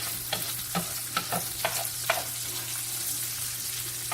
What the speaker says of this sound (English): let's stir this bacon here